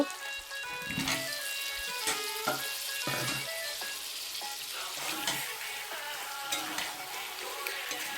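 Fried potatoes are stirred into a sizzling chicken liver and stomach curry, with soft frying crackle under repeated close clinks and scrapes of a spoon against the pan, no voices.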